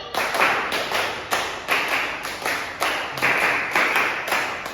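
A class claps a five-beat rhythm three times in a classroom, sharp hand claps in evenly repeated bursts that fill the room, loud and alone without talk.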